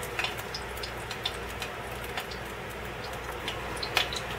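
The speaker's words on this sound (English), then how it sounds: "now you can hear the water sizzling as it hits the oil in the pan" Steady crackling sizzle of water hitting hot frying oil in a pan, with scattered sharp pops and ticks, fairly quiet and continuous throughout, no voices.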